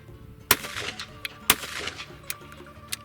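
A .410 shotgun, an over-under fitted with a .410 insert, fires a reloaded Remington STS hull: two sharp, loud blasts about a second apart, each with a short ringing tail, followed by fainter distant pops.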